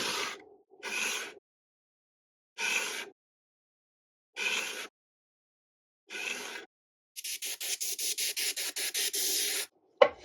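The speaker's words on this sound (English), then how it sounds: "I use my diamond tool sharpening stones to give the blades a nice sharp edge" Hand plane blades rubbed on diamond sharpening stones in a furniture restoration workshop: five separate scraping strokes with pauses, then a fast run of short back-and-forth rasps, close and clear with no talk.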